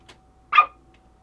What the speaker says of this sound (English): Now it kind of sounds like a toy dog barking